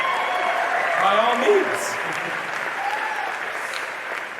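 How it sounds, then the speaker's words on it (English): Audience applause fills a concert hall during a Sounds of Aloha Chorus performance, a steady dense wash of clapping, with someone speaking briefly over it. "give yourselves a round of applause."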